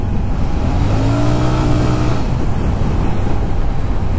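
A Royal Enfield Super Meteor 650 motorcycle engine revs alone and up close, its rising and falling throttle blips roaring loudly over a steady low idle, with a bike that reportedly lacks short pickup.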